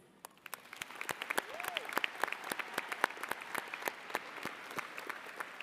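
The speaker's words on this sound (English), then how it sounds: "Graduates, please join me in a round of applause to celebrate the many others who have supported your goals and" Applause from a high school graduation audience starts sparse and builds quickly into steady, lively clapping from a large crowd, with a brief whoop near the start.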